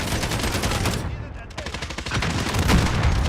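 Rapid gunfire from a video game weapon rattles in close, dense bursts, pausing briefly before resuming, with some talk mixed underneath.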